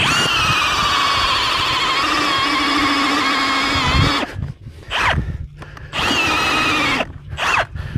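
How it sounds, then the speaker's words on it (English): A power auger bores almost straight down into the ground to dig a hole for a trap, grinding loud and steady for about four seconds, then dropping into quieter, uneven bursts as the dirt is worked. "I'm gonna dig my hole with auger."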